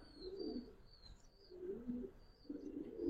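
A Giribaz pigeon, a main cock bird from a home loft, gives three rounded cooing bursts at an even pace, close and moderately soft, with faint higher chirps from other birds behind and no voices.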